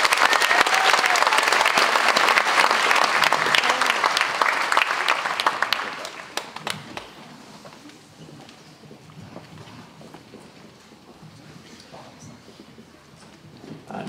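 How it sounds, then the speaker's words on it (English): An audience at a Year 6 school graduation ceremony applauds an award recipient, loud steady clapping for about six seconds that fades into scattered claps and quiet room murmur. "Can we give her a round of applause?"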